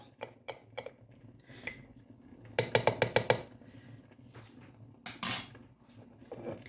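A spoon clinks and scrapes against a metal pot of boiling chili ketchup with starch in quick bursts, with a rapid run of stirring knocks in the middle and faint bubbling beneath.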